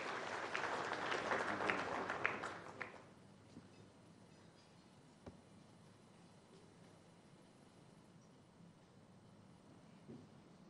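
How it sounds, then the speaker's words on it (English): An audience at a business breakfast meeting applauds to welcome the Agriculture Minister before his presentation, giving a short burst of clapping for about three seconds that then dies away to quiet room noise. "A big round of applause, please."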